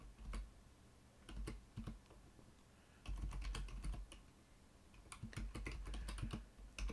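Typing on a computer keyboard, with bursts of rapid clicky keystrokes separated by short pauses, close up and fairly loud against a low background hum, no voices.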